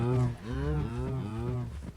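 Cows moo in a video game, with several drawn-out, low, wavering calls following one another at close range. A voice is faintly present underneath.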